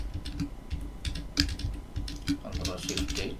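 Keys clack on a computer keyboard as a shortcut is typed during coding work, a close run of irregular taps under faint background talk.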